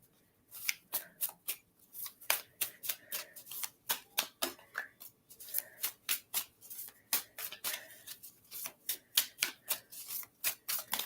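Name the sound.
shuffling tarot cards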